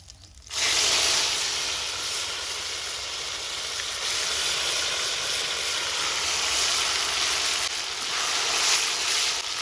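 Bay leaves, cloves, cardamom, cumin and ginger-garlic paste hit hot oil with sugar in a village-style mutton curry pan, bursting into a loud steady hiss that keeps sizzling strongly without pause.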